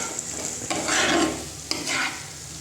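Prawns stirred and fried in a spice masala for a Bengali chingri malaikari, a steady close sizzle with two scraping stirs of the pan, no voices.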